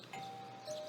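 A doorbell chimes in the video game Persona 4, a single clear ding-dong tone held under faint background music with no talking.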